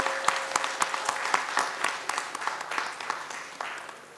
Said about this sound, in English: please give a good round of applause to the presenters